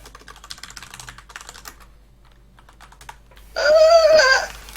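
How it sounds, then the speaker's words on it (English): Keys clatter on a computer keyboard during a competitive multiplayer game match, light, fast typing running through the first half, then a louder burst of game sound near the end with no voices. "Quickly, type faster."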